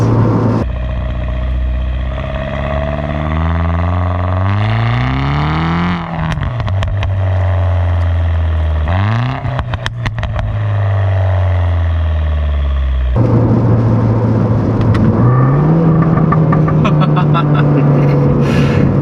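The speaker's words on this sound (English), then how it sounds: "You hear the turbo noise too." Loud Mini Cooper S (R56) engine revving up and down through several pulls, with a rising whistle-like turbo whine over the rumble, close and continuous.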